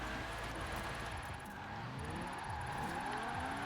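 A 1993 Porsche 928 GTS in Forza Horizon 4 drifts under heavy, constant engine drone with tyre squeal woven through, steady and loud for the whole stretch with no talking.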